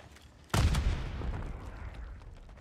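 A grenade goes off in a video-game firefight with a sudden loud blast whose rumble slowly fades over the next two seconds, after a stretch of quiet background.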